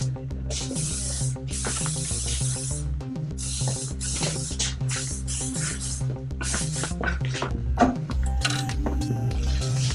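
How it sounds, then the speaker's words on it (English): Modern hairspray sprayed onto hair backstage, repeated close hissing bursts over a steady background of music. "So a little bit of modern hairspray, just to kind of get those going back."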